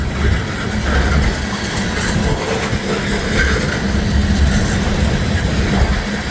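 A steady, loud rumble of a train rolling past nearby, with continuous rail noise and faint clattering throughout.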